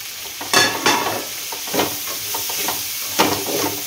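Bitter gourd, carrot, green chili and chopped mango stir-fried in a pan over high heat, with a steady close sizzle and a few sharp scraping stirs of the spatula against the pan.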